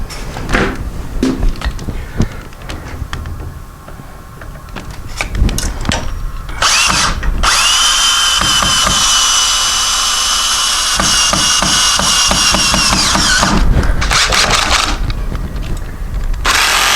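A power drill drives screws into a garage door opener during a repair, with scattered knocks and handling clatter before a loud sustained whirring run of several seconds and a few more bursts of tool noise.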